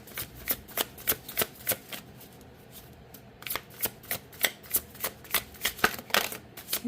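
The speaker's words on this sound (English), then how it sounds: "These cards are really hard to shuffle" Tarot cards being shuffled by hand: a steady run of crisp, close riffling slaps, with a brief pause partway before the shuffling resumes at the same quick rhythm.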